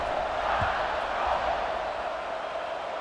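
Stadium crowd in EA Sports College Football 26 keeps up a steady, dense roar and murmur throughout, with faint broadcast commentary folded into the wash.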